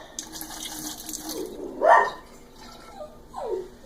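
Liquid is poured off into a bowl while making bread at home, a short trickling splash rising and falling amid quiet kitchen sounds, with a small second pour near the end.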